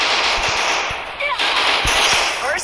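Bursts of MP5 submachine gun fire in a video game crackle amid busy game noise, with a few short shots spread across the moment and a voice talking over part of it.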